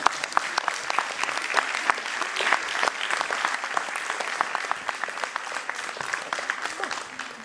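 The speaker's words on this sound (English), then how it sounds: "One more round of applause for the children here." An audience claps after a children's school play, a lively stretch of applause with distinct individual claps standing out from the crowd, fairly close and steady throughout.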